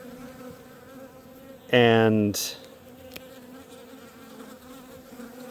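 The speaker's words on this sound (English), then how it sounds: "Lots of bees, 2 deep boxes full of bees" Honey bees hum steadily in a robust hive of two deep boxes full of bees and honey, a faint continuous drone briefly covered by a louder tonal burst and a short click.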